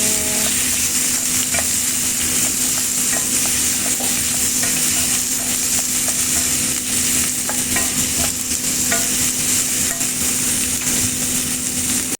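Pinakbet vegetables with tomato being stirred in a hot pan, a steady broadband sizzle with scattered scraping and clinking of the utensil throughout, loud and close with no talking.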